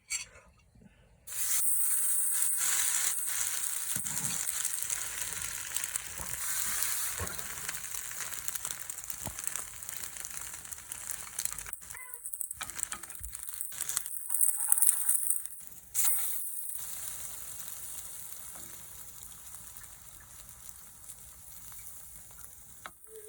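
Egg-dipped bread slices for French toast sizzle and hiss steadily in a hot pan, a loud continuous frying crackle with brief drops and swells, no talking.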